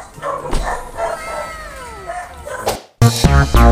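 A dog gives several yips and whimpering barks at moderate distance, with a sharp louder burst near the end, heard during a DIY installation of a car garnish on a Toyota Wigo.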